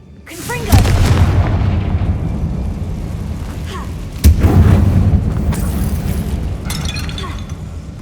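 Confringo fire spell exploding in the video game Hogwarts Legacy, set in a closed mine that looks like a tomb: two loud booming blasts, one early and one midway, each trailing into a rumbling tail, no talk.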